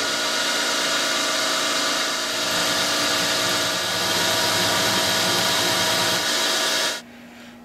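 A power saw cuts a part for a saw arbor in a workshop, a steady, loud whining drone holding for several seconds before the cut ends and the noise drops suddenly.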